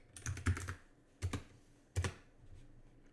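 Keys clack on a computer keyboard while a blueprint class name is entered in Unreal Engine, coming as three quick clusters of close, crisp taps separated by short pauses.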